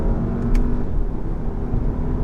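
Steady low engine drone from a 2018 VW Passat GT driven hard, a continuous close rumble with little change in pitch and no voices.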